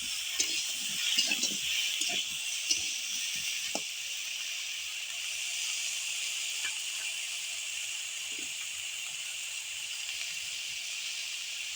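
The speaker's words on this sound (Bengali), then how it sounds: "লবণ দিয়ে ফুলকপি আর আলুগুলো ভালো করে আমি ভেজে নিচ্ছি এভাবে" Cauliflower and potato pieces frying with salt in a pan give a steady, even hiss of sizzling oil, close and moderately loud. A few faint scrapes and clicks sound early on, then the sizzle continues alone.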